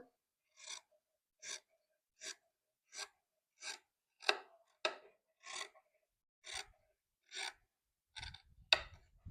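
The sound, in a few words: cutting fabric pieces for a hand-work neckline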